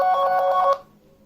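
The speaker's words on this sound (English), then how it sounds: "you can start ringing and find out your phone from that ring itself" A phone rings with a loud, pulsing electronic tone for under a second before it cuts off abruptly into quiet.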